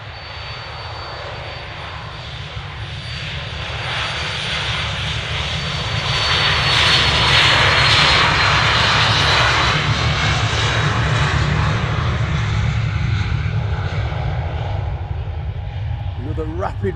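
A Pilatus PC-24 business jet takes off at Manchester Airport, heard from a spotting position: a loud, continuous jet roar with a deep rumble that swells to a peak midway and then slowly fades as the aircraft climbs away.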